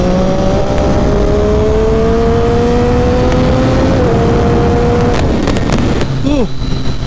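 A Triumph Street Triple 675 motorcycle accelerates on hilly roads, its engine note rising steadily in pitch and holding loud and near under wind noise, then breaking off with a brief shift near the end.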